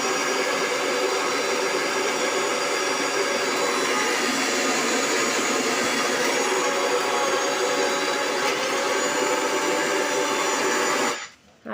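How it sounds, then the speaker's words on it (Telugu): A mixer grinder whirs continuously as it grinds soaked lentils with water into idli batter, a loud, steady motor drone lasting throughout before cutting off abruptly near the end. "పప్పు కొన్ని ఇప్పుడు ఒకసారి మిక్సీకి వేసేసుకొని"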